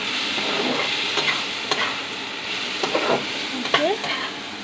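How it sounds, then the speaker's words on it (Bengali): Sliced potatoes fry in a pan in a home kitchen, giving a steady close sizzle with occasional sharp scrapes and clinks of stirring and no talk. "মাম্মি এখানে রান্না করছে আলু ভাজা।"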